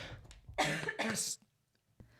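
A couple of harsh, close coughs in quick succession, followed by a brief pause and a faint final throat sound.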